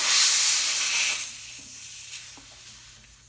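Air hisses sharply out of a car tire valve as pressure is let down, a loud rushing burst lasting about a second that tapers off into quieter handling noises.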